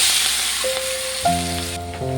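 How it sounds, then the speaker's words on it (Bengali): Chopped onion and green chilli fry in a little oil in a pan, a steady bright sizzle close by that carries on with a faint hum underneath. "পেঁয়াজটাকে একটু ভেজে নেব নরম করে।"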